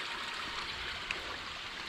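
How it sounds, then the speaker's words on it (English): A farm creek swollen after heavy rain rushes steadily, a constant full-bodied wash of flowing water with no voices. "We're at the creek."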